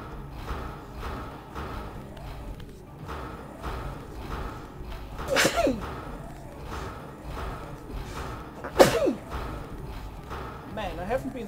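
A person playing Legacy of Kain: Soul Reaver sneezes sharply twice, the bursts standing out over quiet game sounds, with soft breathing and low background noise between them.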